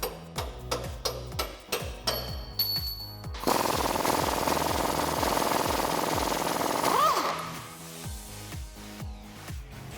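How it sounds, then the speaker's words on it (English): Dead blow hammer tapping the back of a suspension bolt on a Jeep Wrangler JL during a lift install, a rapid run of sharp taps followed by a dense, sustained rattling clatter, then scattered knocks. "I'm just gonna tap a dead blow on the back,"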